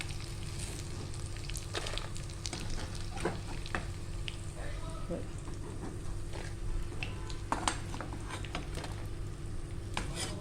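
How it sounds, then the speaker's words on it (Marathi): Clams frying in hot oil for a Maharashtrian clam fry, with a continuous sizzle broken by scraping and stirring knocks from a utensil in the pan, loud and close throughout. "अशीच आता आपण सगळी फ्राय करून घेऊया"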